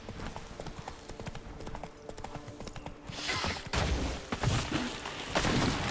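Roach, Geralt's horse in The Witcher 3: Blood and Wine, clopping hooves at a steady rhythm, growing louder and busier partway through, alongside other game sounds.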